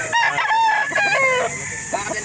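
A rooster crows at a chicken market in Calauan, Laguna, a near, loud, strained call with wavering pitch, and other fowl and background market noise sit underneath.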